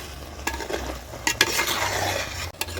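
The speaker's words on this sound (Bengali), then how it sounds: "পেঁয়াজ পাতা দেওয়ার পর আর একবার নেড়ে নেব" A spoon stirs chicken curry with freshly added spring onion greens in a pan, scraping steadily over a soft continuous sizzle with a few sharper clinks, close and moderately loud, no talking.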